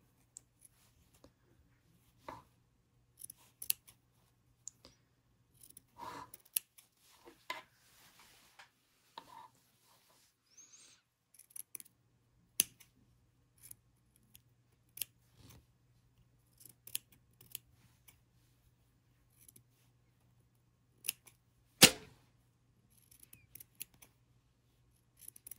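Scissors snip through a fabric seam allowance in a quiet sewing room, a long series of small sharp clicks, some in quick pairs, some spaced apart, close and soft with a faint hum beneath.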